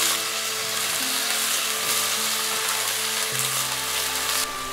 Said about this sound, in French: Je remue de temps en temps pendant 30 secondes.